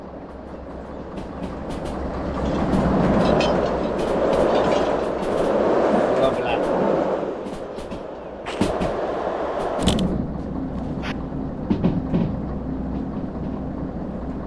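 A train rolls past in the railway simulation game Derail Valley, with a loud steady rumble and clattering wheels, then a few sharp clanks as it moves on.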